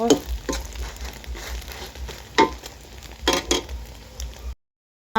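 Eggs sizzle and crackle steadily in a frying pan on a Thai home stove, with a few louder spits and pops of hot oil; the sound runs continuously, then cuts off abruptly near the end.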